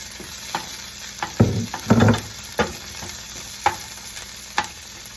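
Peas and red pepper flakes cooking in a pan, soft steady sizzle punctuated by several sharp scraping stirs and a couple of heavier clatters, close and without talk.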